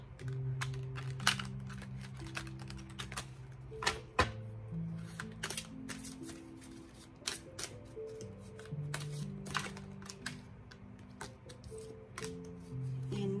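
Tarot cards shuffled by hand at close range, a dense run of soft flicks and sharp riffling snaps that repeats throughout, with a faint sustained hum of background music underneath.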